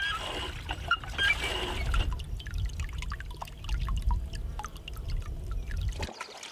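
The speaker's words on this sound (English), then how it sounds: "To wash up in the wagon, I first had to draw up some water." Water is drawn up and poured for washing at a mule-drawn wagon camp, with splashing and a dribbling trickle followed by scattered drips and small splashes, fairly close and without talk.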